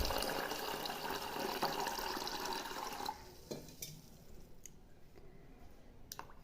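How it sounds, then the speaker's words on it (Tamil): Water pours into a rasam preparation as a close, fairly soft gushing fill for about three seconds, then gives way to quieter sloshing with small splashes and clinks. "கொஞ்சம் பச்சை தண்ணி சேர்த்துக்கலாம்."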